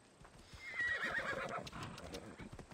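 A horse in the video game Assassin's Creed Odyssey whinnies loudly, then its hooves clip-clop at a steady gallop under a faint background hum, with no talk.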